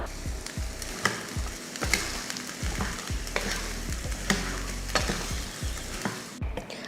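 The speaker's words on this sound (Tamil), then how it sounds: "கொஞ்சம் மல்லித்தலை தூவிட்டு இப்போ கிளறிக்கலாம்" Sundal with coriander being stirred in a hot pan, a repeated scraping spoon rhythm with light knocks over a steady sizzle, close and clear.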